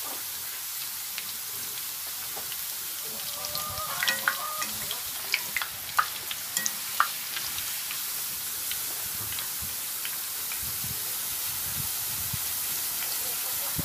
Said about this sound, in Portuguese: Vai colocando que ela vai fritando melhor